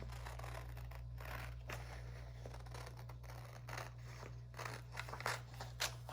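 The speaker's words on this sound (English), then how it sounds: "So I'm just gonna cut along the 2 lines that I drew." Scissors snipping along drawn lines through the fabric of a woman's suit blazer being resized for a doll, a steady series of soft crunchy cuts over a low constant hum.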